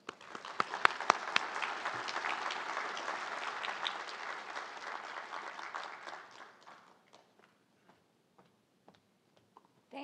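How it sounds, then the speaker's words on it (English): An audience at a business event claps to welcome a speaker to the stage, dense applause that builds quickly, holds for several seconds, then thins to a few scattered claps and fades to near silence. "Please join me in welcoming Nadine Watt to the stage."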